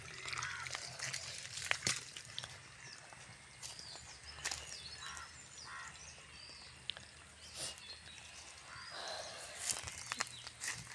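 Irrigation water flowing into the beds around coconut palms on a farm, heard as a faint trickling and sloshing with occasional footsteps and some background sounds, distant and low.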